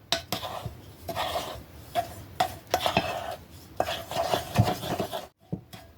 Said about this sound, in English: now we stir everything up